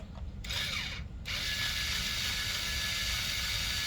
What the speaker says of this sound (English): get our trusty string unwinder